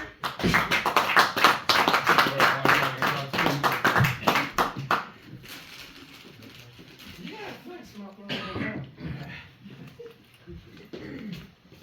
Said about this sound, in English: So keep your claps going for Pre!